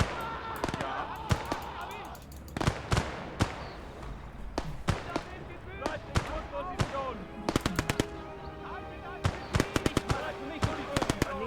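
Pistol gunfire in the video game Legion of the Damned: sharp, rapid shots crack out in irregular bursts and clusters over a busy game soundscape, loud and close throughout.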